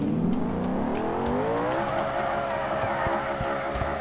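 An ETK 1300 mod car drifts in BeamNG, its tires squealing in a long sliding wail over a steady engine drone, loud and continuous throughout.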